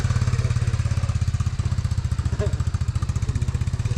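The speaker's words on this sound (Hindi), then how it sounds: "वो इस तरह से इस बाइक को चला के अपने घर तक जाती है" A scooter-like motorbike ridden in Longwa, Nagaland, its small engine chugging in a steady rapid pulse, loud and close throughout with no voices over it.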